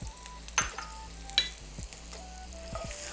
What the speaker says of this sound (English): You're gonna take some thinly sliced Vidalia onion, which is also sweet yellow onion, and you're going to add it to your pan.